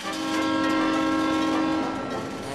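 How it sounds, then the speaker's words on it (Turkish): A cartoon train horn blares in one long sustained tone over rumbling rail noise, loud and close, with the clatter continuing as it fades slightly. "Birazdan trenin geçeceğini söylüyor."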